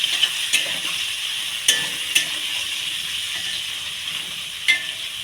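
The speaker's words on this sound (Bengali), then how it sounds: "নেড়ে চেড়ে নেব" Spicy food fries in a pan with a constant hissing sizzle, and a utensil stirring it gives a few sharp scrapes and knocks at irregular moments.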